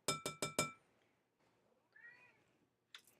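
An indoor cat near a kitchen meows faintly and briefly, asking for her dinner. It comes after a quick run of four sharp glassy clinks, and another clink sounds at the end.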